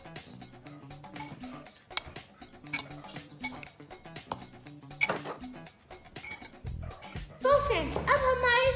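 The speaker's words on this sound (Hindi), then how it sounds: "सॉक्स के अंदर राइस डालेंगे।" Dry rice poured into a sock for a sock snowman Christmas craft makes a light, close, granular rattle and patter of grains, while a voice talks over it and music rises near the end.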